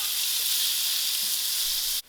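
Onions sizzling steadily in hot oil in a pan while being cooked for a mushroom and spinach quiche, a constant bright crackle throughout that cuts off abruptly at the end, with no talking.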